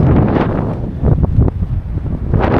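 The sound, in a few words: strong wind on a boat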